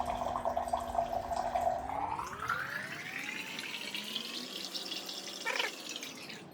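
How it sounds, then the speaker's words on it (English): A hot and cold water dispenser pours water into a container, a steady close stream whose pitch rises as the vessel fills, with no speech. "you will have your water being poured like this"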